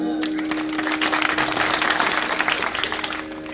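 Applause from an audience at a Marathi kirtan devotional gathering, a steady wash of clapping sustained for several seconds with a faint tonal hum underneath.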